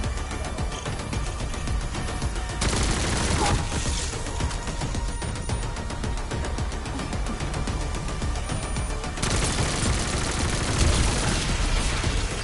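Rapid automatic gunfire in the shooter Black Ops 7 Zombies, played solo on the Astra Malorum map, crackles as a dense, loud, continuous barrage with a few heavier surges and no pauses.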